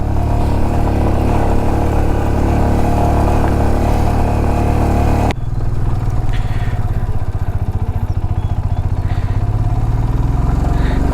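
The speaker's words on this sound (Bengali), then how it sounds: "লো এন্ড টর্ক অনেক বেশি, তারপরেও ফুল থ্রটল লাগছে।" A Royal Enfield Himalayan motorcycle labours uphill at full throttle on a rough mountain road in Ladakh. The engine drones loudly and steadily up close with a low thumping exhaust, and a sudden shift midway gives a deeper pulsing note.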